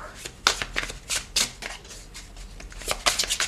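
A new tarot deck being shuffled by hand, with a string of close, crisp riffling card bursts in uneven rhythm over about three seconds.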